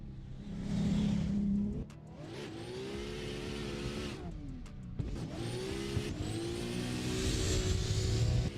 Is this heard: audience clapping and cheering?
no